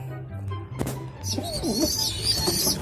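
Racing pigeons in a new loft give low, soft coos and a few higher chirps, heard close in a brief stretch over light background noise.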